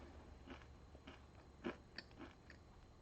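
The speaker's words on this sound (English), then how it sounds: "So you get to put up with all of my crunching noises." Corn chips crunch in a series of soft, close bites and chews, irregular crisp snaps spaced about half a second apart against a quiet background.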